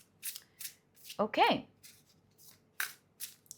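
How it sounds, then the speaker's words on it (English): A deck of tarot cards is shuffled close up in short, crisp riffling bursts, with a quick bridge-like flutter in the middle, while a voice speaks briefly. "I love shuffling this deck."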